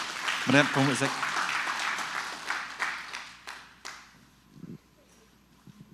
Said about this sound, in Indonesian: Beri kita tepuk tangan untuk Tuhan